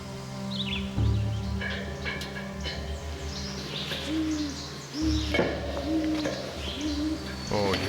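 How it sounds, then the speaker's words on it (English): A captive owl gives low hoots, several soft, deep calls repeated at a slow, even pace close by over a background hum, with a person speaking nearby. "Oh, you hear those low hoots?"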